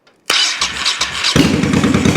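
A Honda VT1100 motorcycle engine, faulty and running on only one cylinder, catches after a moment of silence and runs loudly close by, then revs higher as the idle is raised.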